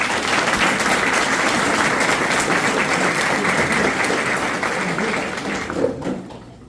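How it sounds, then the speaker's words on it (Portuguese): A church congregation at a retreat applauds, a dense, loud, sustained wash of many hands clapping together that holds steady and then thins and fades near the end. "Quero convidar você a aplaudir o Espírito Santo de Deus"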